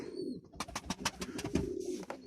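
Pigeons cooing nearby in a loft, a run of soft, repeated throaty coos in steady rhythm, fairly close and alone without talk.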